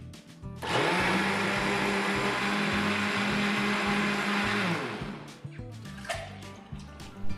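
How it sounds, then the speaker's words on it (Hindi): An electric kitchen blender whirs loudly and steadily for about four seconds while blending plain lassi with sugar, then cuts off, followed by light clinks and handling noises. "आज तो मैं नॉर्मल लस्सी बना रही हूँ, जिसमें बस मैं शुगर डाल के इसको अब कर लूँगी मैं ब्लेंड।"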